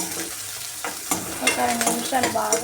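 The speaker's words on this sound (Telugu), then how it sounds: "అలాగే ఒక పచ్చిమిర్చి కూడా యాడ్ చేసుకుందామండి." Green chili fries in a pan for a pasta dish, with a steady close sizzle and stirring scrapes, while a voice speaks briefly over it.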